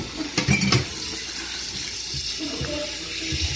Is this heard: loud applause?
no